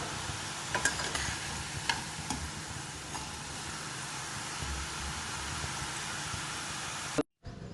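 Hot oil sizzles and crackles continuously as sev (sweet gram-flour strands) fries, a dense hiss with occasional sharper pops, then a brief cutoff near the end.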